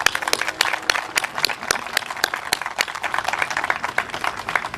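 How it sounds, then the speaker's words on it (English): A crowd applauds a cadet color guard with brisk, dense clapping, many hands overlapping in a lively, fairly close burst that continues steadily throughout. "let's give them a round of applause"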